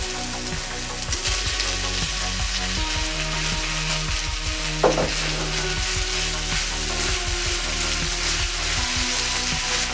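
Raw shrimp added to softened vegetables in a pan for tacos gobernador, a low steady sizzle with a brief louder burst midway, under a persistent tonal background hum.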